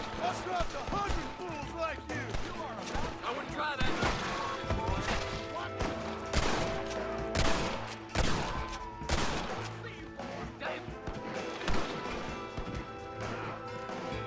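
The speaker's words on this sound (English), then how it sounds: "It's just random shooting." Gunfire in Red Dead Redemption near Bear Claw Camp, repeated sharp shots and impacts scattered over a busy game soundscape with music, while someone talks over them.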